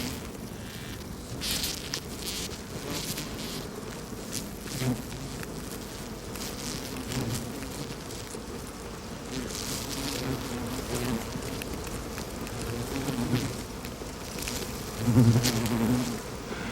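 A whirling swarm of male Ammophila wasps buzzes continuously around an emerging female, a dense droning hum with individual wingbeats passing close and swelling near the end.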